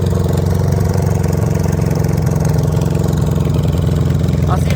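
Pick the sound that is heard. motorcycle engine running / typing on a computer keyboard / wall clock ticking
motorcycle engine running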